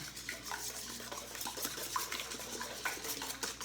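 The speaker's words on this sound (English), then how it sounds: "so I'm mixing the eggs up really good" Eggs being whisked in a bowl for a breakfast casserole, a quiet, continuous clatter and scrape of the whisk against the bowl at close range, no talking.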